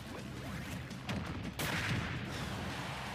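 A party popper item bursts in Super Smash Bros. Ultimate with a sharp, loud crack-like blast over a busy background of game effects.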